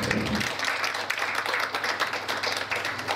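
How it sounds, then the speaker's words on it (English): A college audience gives a round of applause to welcome a guest lecturer at a special lecture series, moderately loud clapping sustained for about three seconds, close and fairly even. "A round of applause, please."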